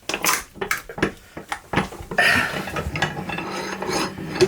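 An arbor press crushes a tin can, giving a series of metallic clanks and scraping rasps, then a sustained crunching, grinding squeal as the can folds flat, close and fairly loud.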